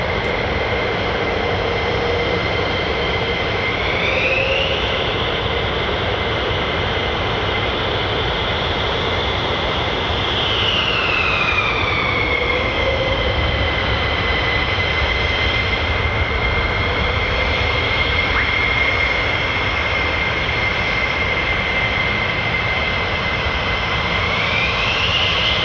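US Air Force F-15 and F-35 fighter jets of the 48th Fighter Wing at RAF Lakenheath produce a loud, sustained engine roar with rising and falling whines as they pass and taxi nearby.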